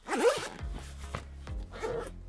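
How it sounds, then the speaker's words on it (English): A short zipping rub, then fabric rustling and soft clicks as a clip-on microphone is taken off close by, with a second brief zip near the end. "I'm gonna actually take my microphone off here"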